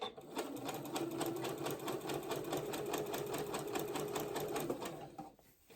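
A sewing machine stitches a shirt seam in a fast, steady mechanical chatter of rapid needle strokes for about five seconds, then stops abruptly, leaving quiet room sound.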